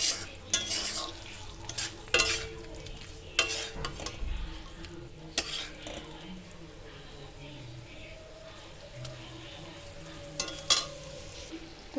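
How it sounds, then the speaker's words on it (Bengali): Fried potatoes and paneer are stirred and sautéed in a pan. A spatula scrapes and clatters in uneven bursts over a steady background sizzle, close and fairly loud, with the scraping fading into gentler sizzling later. "আলু ভেজে রেখেছিলাম সেগুলো দিয়ে দিলাম দিয়ে সুন্দর করে কষিয়ে নেব"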